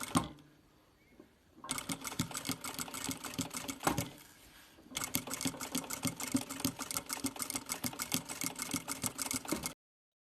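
A sewing machine stitching a 1 cm seam around a fabric mask, close and steady, with fast rhythmic needle clatter in two long runs separated by a brief stop and handling noise.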